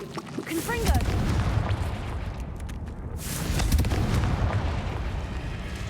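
Confringo fire spell blasting in Hogwarts Legacy, two rumbling booming explosions a few seconds apart with a brief voice at the start.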